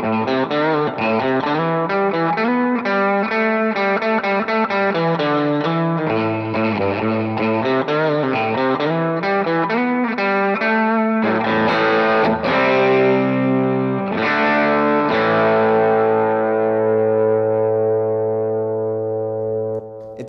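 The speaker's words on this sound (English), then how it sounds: "With some delay." Distorted electric guitar from a Vox Bobcat reissue, played on the bridge pickup through a delay effect, a loud riff of sustained notes whose repeats trail off into a long ringing tail at the end.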